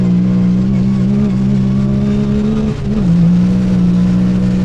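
Yamaha YXZ 1000R buggy engine holding a loud, steady drone close by, dipping briefly midway before the revs pick back up and carry on.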